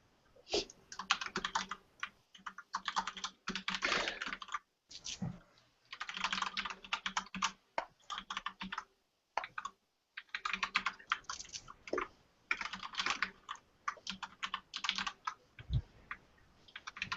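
Fast bursts of typing on a computer keyboard, close and crisp clicking in uneven runs separated by short pauses, with no talking.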